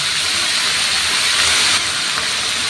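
Pork stir-frying in a pan makes a loud, close, continuous sizzling hiss with no pauses, and no one speaks over it.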